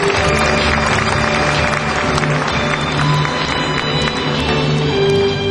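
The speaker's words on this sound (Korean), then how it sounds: "다시 한 번 더 격려 박수를 부탁드립니다" Steady applause from an audience at a 2004 early entrance ceremony, a dense continuous patter of many hands with a faint low hum beneath, sustained evenly throughout.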